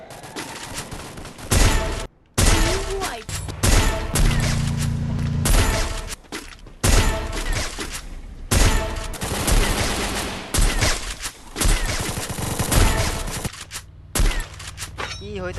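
Sniper rifle fire and other gunfire in a video game played by a Bangladeshi player known for sniping: loud, sharp blasts and rapid bursts repeat throughout, separated by brief silent gaps.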